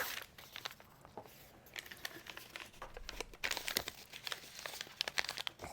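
Crinkly tearing of a thin plastic-paper candy wrapper, a run of sharp crackles and rips close by, with no voices.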